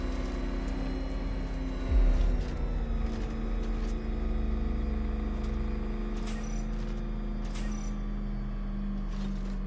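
The Batmobile's engine in Batman Arkham Knight drones in a steady low hum, with a brief heavy thump early on, then idling on amid faint mechanical game noises.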